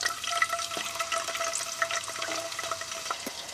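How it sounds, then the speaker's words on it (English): French fries frying in hot oil inside a camper van, a steady dense sizzle and crackle with scattered pops, close and fairly quiet, continuing without voices. "Throw our first round of French fries in there."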